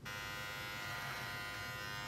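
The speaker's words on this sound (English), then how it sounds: "maybe I can use the trimmers to fix it" Electric hair trimmers buzz steadily and close for a couple of seconds while cutting hair at the side of the head, a constant faint motor whine with no talking.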